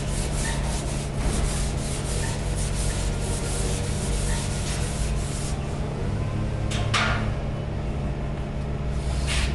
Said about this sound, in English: Let's go ahead and start sanding.